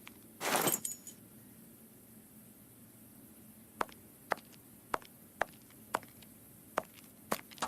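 A ring of keys jangles in the PC game The Testament of Sherlock Holmes, a brief metallic rattle near the start followed by a string of sharp, separate clicks and clinks spaced across the quiet remainder.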